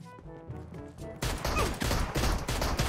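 Burst of gunfire from a pistol in the mobile battle-royale game PUBG Mobile, with repeated loud cracks packed densely after a quieter stretch of game sound, the shots coming in quick succession.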